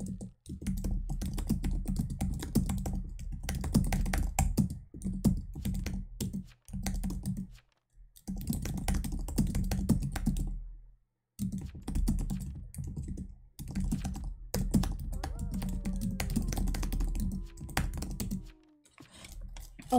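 Rapid, continuous computer keyboard typing during a Town of Salem ranked match, loud and close, with a few brief pauses and a faint tonal game sound near the end.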